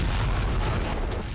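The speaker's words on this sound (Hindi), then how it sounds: "मॉस्को का आसमान तोपों की गरज से गूंज उठा" Army cannons fire a 21-gun salute in Moscow after a presidential swearing-in ceremony, heard as a loud, dense rumbling boom that fills the whole moment.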